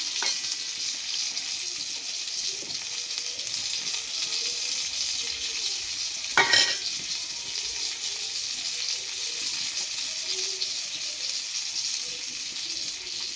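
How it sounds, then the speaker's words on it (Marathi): Fish fries in oil on a flat iron pan over a wood-fired stove, giving a steady, fairly quiet sizzle throughout, broken once by a short clatter midway. "जर तव्यामध्ये तेल कमी असेल तर, म्हणजेच मच्छी आपली चांगल्या प्रकारे फ्राय होऊन येईल."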